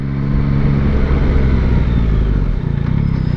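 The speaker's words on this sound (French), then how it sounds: "J'avais oublié que le CP3 avec cet échappement faisait un bruit aussi valorisant. C'est profond, c'est rauque, c'est présent sans en faire trop." A Yamaha Tracer 9 GT+ with its CP3 three-cylinder engine and exhaust, heard while riding, gives a loud, steady, deep raspy drone that stays close and continuous, then turns slightly pulsing near the end.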